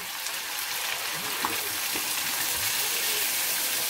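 A splash of white wine is poured into a pan of cooking offal with bay leaves, producing a steady, close hiss and sizzle that continues throughout.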